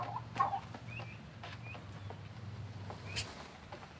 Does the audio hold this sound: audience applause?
no